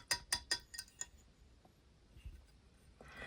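A glass Christmas ornament being handled during unboxing gives several bright, close clinks in quick succession at the start, then fades to faint rustling and a soft handling noise near the end.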